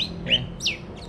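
Small birds in the Jurong Bird Park aviary give a few quick, high chirps, three or four short notes over a low background hum, fairly near and moderately quiet.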